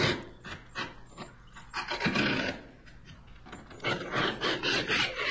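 A drill with a 1-inch paddle bit bores into a 2x4 in rough, grinding bursts, pausing between pushes, with a rasping, chewing texture up close.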